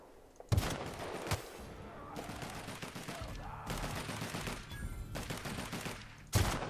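Repeated bursts of gunfire from The Outer Worlds combat, several loud volleys and rapid shots spread across the stretch with short gaps between, fairly close and busy.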